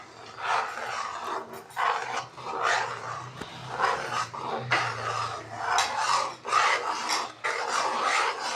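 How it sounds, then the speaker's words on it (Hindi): Chana dal halwa with ghee, raisins, coconut and almonds stirred continuously in a pan, heard as loud, close, repeated scraping and rasping strokes in an uneven rhythm with occasional clinks. "लेकिन इसको मुसलसल इस तरीके से चलाते रहना है ताकि ये कहीं जाम ना हो जाए।"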